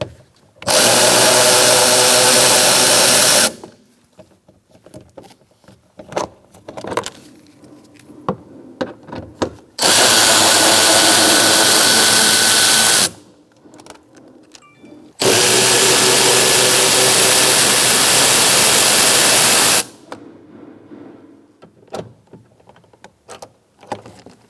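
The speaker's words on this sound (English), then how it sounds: "Using a 5mm Allen wrench socket, we're going to take out the bolts." A power tool with a 5mm Allen socket runs in three loud, steady whirring bursts of several seconds each while removing window regulator bolts in a 2012-2019 Fiat 500, with quiet clicks and handling noises between bursts.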